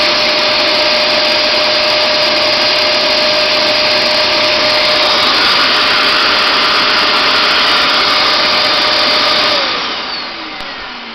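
Hoover Max Extract 77 Multi-Surface Pro FH50240 carpet cleaner runs loud and steady, a broad motor whine with a faint tone, then winds down in the final second as it switches off.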